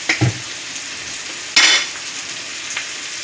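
Ribeye steak with garlic frying in a pan, a soft steady sizzle broken by a few sharp clinks and a louder burst of spattering midway, close and without talking.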